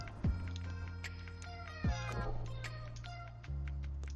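Happy meows from a cat in a video game, several short rising calls over a steady low ambient game hum, fairly close and clear, with no speech.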